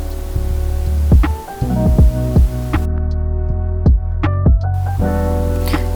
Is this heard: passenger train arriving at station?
no